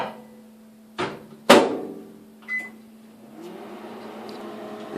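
A microwave oven used to make peanut brittle hums steadily, with sharp clunks of its door and a short electronic beep before it starts running again.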